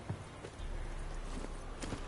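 Hooves of Geralt's horse Roach in The Witcher 3, a quick run of soft clip-clop beats at a trotting rhythm, fairly quiet against a busy background of ambient game sound.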